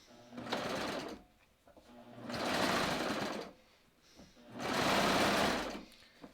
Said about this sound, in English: now I'm just going to serge this